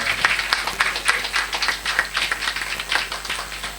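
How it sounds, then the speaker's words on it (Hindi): An audience claps steadily at an award ceremony. The applause is a dense, even patter of many hands that holds at the same level from start to finish, with no speech over it. "एक बार जोरदार ताली हो जाए दोस्तों।"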